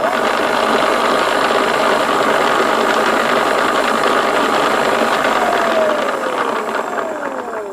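A Power Wheels brush motor runs at full 24 volts, giving a loud, steady mechanical whine with a gear-like ratchety buzz throughout, and its pitch shifts slightly near the end.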